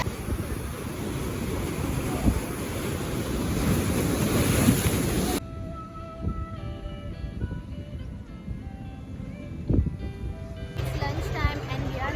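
Surf rolls and breaks steadily on Gogla beach in Diu under strong wind buffeting the microphone, then cuts abruptly to a calmer stretch with faint background sounds.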